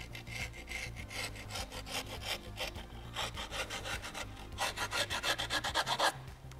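A screwdriver scrapes along the edge of scooter grip tape in quick repeated rasping strokes, close and fairly quiet, speeding up into a tight rhythmic burst near the end with no talking.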